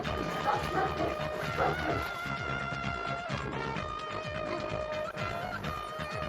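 Long-haired German Shepherds at a kennel bark and yip repeatedly in overlapping bursts, close and loud, with a few whimpers mixed in.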